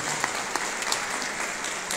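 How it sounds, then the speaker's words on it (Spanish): A crowd applauds with steady, even clapping, moderately loud and continuous for the whole stretch. "Les damos un fuerte aplauso"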